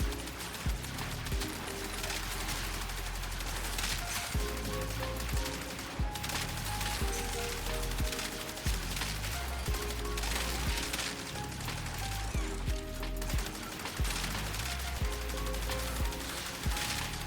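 Rapid sustained gunfire from the Athodai primary weapon in the video game Warframe, dense repeated shots under a steady backing of game music and effects, loud throughout.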